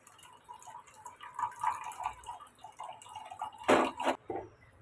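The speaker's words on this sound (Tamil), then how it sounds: "இப்போ இதை நம்ம ஒரு வடிகட்டி வச்சு வடிகட்டி எடுத்துக்கலாம்." Watermelon juice, made from the fruit alone with no water added, trickles and drips through a kitchen strainer, with a louder burst of pouring splashes near the end.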